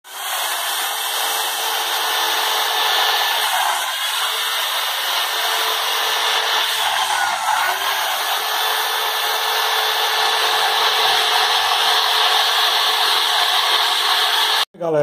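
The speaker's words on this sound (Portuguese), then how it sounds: "Aí eu tenho essa peça aqui na furadeira e eu estou fazendo um debaixo só para passar o parafuso." An electric drill fitted with a grinding bit cuts a clearance under a ceramic tile for a screw during a switch and socket replacement. It gives a loud, steady high whine that runs continuously at close range.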